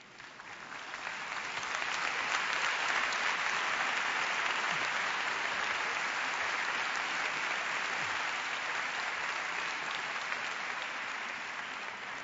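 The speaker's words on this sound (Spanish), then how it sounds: "Me imagino que ese es un aplauso para el Pisco Sour" Conference audience clapping after a keynote speech, a dense, even round of applause that swells quickly, holds steady for about ten seconds and then slowly thins out.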